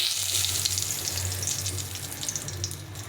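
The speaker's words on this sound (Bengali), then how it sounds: "প্রথমে আমি একটা শুকনো লঙ্কা দিয়ে দেবো আর এখানে দুটো শুকনো তেজপাতা" Dried red chilli and bay leaves crackling and sizzling in hot oil in a pan, a loud, continuous, close fizz.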